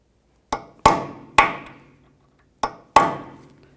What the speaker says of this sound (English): Just take a punch and a hammer. We just want to peen this down a little bit.